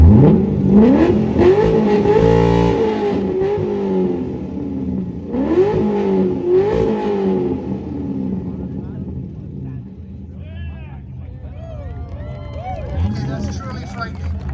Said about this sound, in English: I really like the sound of this Cam C6 Corvette. 3, 2, 1, let it rip.